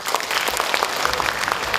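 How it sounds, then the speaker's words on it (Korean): An audience at an education forum applauds warmly, a dense, fairly close patter of many hands clapping that holds steady through a brief burst. "이렇게 큰 박수로 환영해 주셔서 진심으로 감사드립니다."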